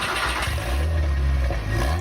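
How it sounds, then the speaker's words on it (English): KTM X-Bow GT4 Evo starting up in the video game Driving Empire, a loud low engine roar that settles into a rough steady idle with a deep rumble, heard alone. "That startup is actually pretty crazy."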